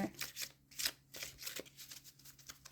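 Playing cards are shuffled close up, with soft riffling and flicking bursts in an uneven rhythm, fairly quiet, with no talking.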